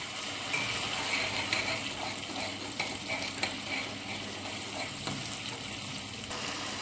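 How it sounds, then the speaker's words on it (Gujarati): Spicy garlic chutney with salt sautéing in a pan, a steady close sizzle with scraping spoon strokes and occasional clicks, no voices. "અહીં આપણી લસણની ચટણી સાતળાઈ ગઈ છે"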